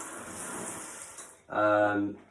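Water rushing from a pulled-out retractable shower handset in a tiled shower with wall niches, a short steady spray starting abruptly after a quieter hiss.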